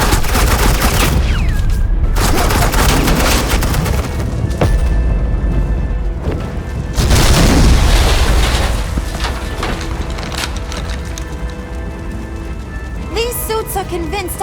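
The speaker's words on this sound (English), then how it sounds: "suppressing fire" Suppressing gunfire in the Batman Telltale game The Enemy Within: loud sustained bursts of automatic fire and booming shots, dense and continuous with brief dips, ending in a flurry of sharp rattling.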